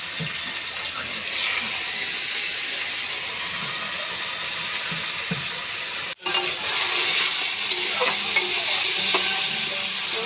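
Potatoes sizzle in hot oil in a kadai, a loud, steady frying hiss that swells as they go in, with a brief dropout partway and faint stirring scrapes.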